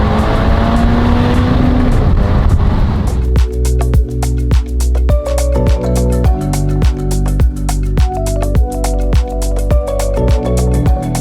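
Ferrari Portofino engine sounding close and loud, a steady roar at first, then a repeating pattern of rising revs and sharp gear changes as the car accelerates on a drive.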